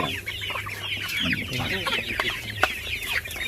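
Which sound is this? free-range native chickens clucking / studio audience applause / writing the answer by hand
free-range native chickens clucking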